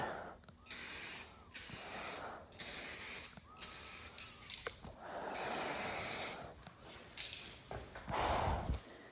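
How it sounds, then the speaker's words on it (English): A spray gun lays a tack coat of paint on a truck bumper for a 1999-2007 Ford F350 Super Duty, hissing in repeated bursts of a second or two separated by brief pauses, close and fairly loud. "I think that's a light enough tack coat."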